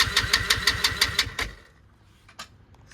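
A dirt bike engine cranks over in a rapid, even rhythm of loud, close bursts, catches briefly with a sharp pop, then dies off to near quiet with a few faint ticks.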